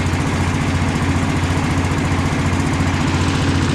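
An engine-driven welder idles at low speed nearby, a steady, loud, rumbling drone with an even pulsing beat throughout and no voices.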